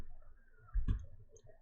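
A single computer mouse click during software work, one short sharp tap standing out near the middle against a faint quiet background.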